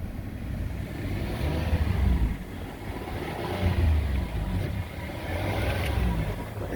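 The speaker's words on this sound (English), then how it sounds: "So let's rev her up, see how she sounds." A 2010 Hyundai Santa Fe engine is revved several times, rising and falling in swells of low throaty roar between steadier running, heard close with no talk.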